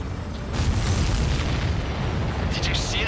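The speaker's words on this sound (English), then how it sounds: "Did you see that explosion?" In the video game Ace Combat 7, a supply ship blows up in a heavy, rumbling explosion that fills the scene and holds steady for seconds, mixed with dense jet and combat noise.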